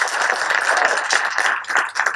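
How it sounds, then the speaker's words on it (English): Audience applause at a business talk event in Nelson Mandela Bay, a steady wash of clapping from many hands that stays moderately loud throughout, with no voices standing out. "I think you need to give him a round of applause."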